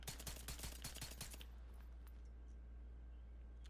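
Video game gunfire from The Division 2 rattles in a quick automatic burst of sharp shots for about a second and a half, then gives way to a quiet hum.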